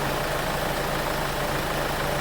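A car engine that is low on oil runs loudly and steadily, a dense continuous mechanical roar with a faint knocking undertone, close by and unbroken.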